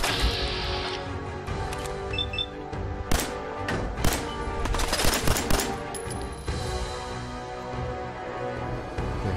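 Enemy gunfire in Fallout 4, rapid bursts of shots and machine-gun volleys cracking in clusters, fairly loud over a background of game music.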